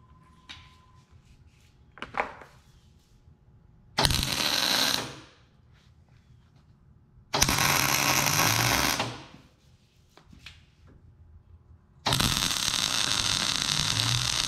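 Welder tack welding on a trailer: three loud bursts of broadband crackling arc, each lasting about one to three seconds, separated by quieter pauses with faint clinks.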